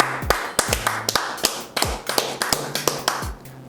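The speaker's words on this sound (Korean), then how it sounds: "힘찬 박수 부탁드립니다." Sparse, uneven claps ring out at a Korean street-food show taping, a few sharp hand strikes spaced irregularly rather than a full crowd ovation.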